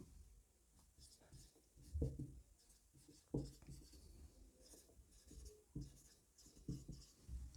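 Chalk or marker writing on a classroom board during a science lesson, with soft scratchy strokes and taps in short irregular bursts, close and quiet, while someone speaks intermittently over it.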